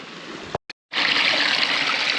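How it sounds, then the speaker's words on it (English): Small waterfall pours into a pond on a river, a steady rushing hiss of water with a brief dropout, then louder and fuller flow. "So we got this little waterfall right here."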